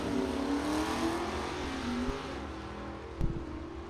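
Drag race cars, an 1989 Mustang against a 1995 Camaro, roar with steady revving engine drone at moderate distance, with a brief thump near the end.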